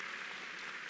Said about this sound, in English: Let's give Dean another round of applause for a great team